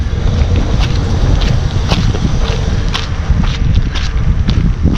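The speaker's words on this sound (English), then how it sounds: "Windy out." Strong wind buffeting the microphone on a Corvette C4 ride, a constant low rumble with gusty swells and faint scattered knocks.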